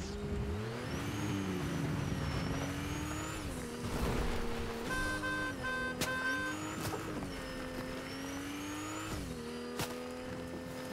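Car in the Fortnite video game, its engine droning and revving with rising and falling pitch across about eleven seconds, with squealing tires and a short tonal honk partway through, fairly loud with no talking.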